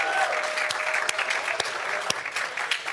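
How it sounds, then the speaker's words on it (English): Dense applause from an audience cheering finalists at a university research-presentation competition, a continuous wash of clapping with a few sharp, close claps standing out. "we're gonna give them a round of applause"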